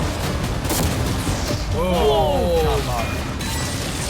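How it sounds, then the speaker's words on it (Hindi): Video game cannons fire in a rapid barrage and smash into a yacht, with booming impacts and crashing debris. Tonal game effects rise over the chaos midway. "वो कैनन्स ऐसे आर पार हो रहे हैं जैसे वो बटर हो।"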